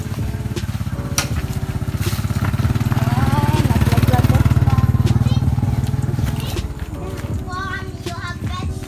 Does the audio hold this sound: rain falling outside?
no